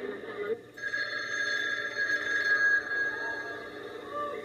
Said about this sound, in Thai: โทรศัพท์ไพน้อนี่